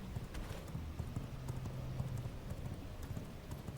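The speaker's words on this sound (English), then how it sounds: "let's get onto our horse" Horse hooves clip-clop steadily in the vampire survival game V Rising, a quiet continuous patter of footfalls carrying through the whole stretch with no talking.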